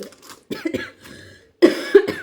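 Several harsh coughs from a person with a fever come in close, loud bursts, with brief pauses between them, followed by a stronger fit of coughing.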